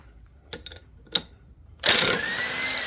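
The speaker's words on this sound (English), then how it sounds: "Let's see if I can get this with an impact without having to strap my engine down." Impact wrench removing a 17 mm bolt from a GP 800 engine: two short tool blips, then a loud, sustained burst of rapid hammering that settles into a steady whirr as the bolt spins free.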